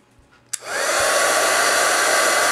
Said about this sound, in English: now we're gonna take our heat tool, so excuse the noise.